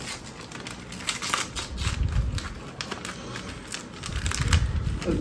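Christmas present being unwrapped and opened in a family home in Portugal, with crinkly paper rustling and tearing in close, uneven bursts and soft handling thumps, no talk.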